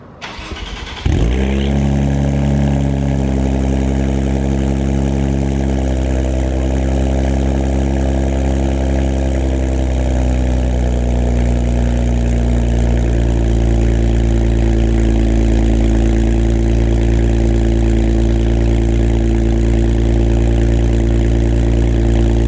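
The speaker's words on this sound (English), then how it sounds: "We are finally going to turn on the vehicle." An Infiniti Q60 fitted with new downpipes cranks and fires after about a second, settling into a loud, deep, steady idle rumble that continues alone to the end.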